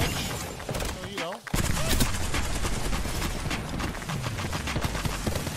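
Hip-fire gunfire from Apex Legends gameplay: dense, continuous rapid shots filling the whole stretch at a loud, steady level, with brief voice sounds mixed in early on.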